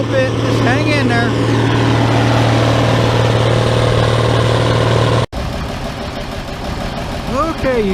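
Farmall 806 tractor with a straight pipe, idling in a field after discing: a steady, loud low engine drone that cuts out briefly near the end, then continues rougher, with a voice talking over it throughout.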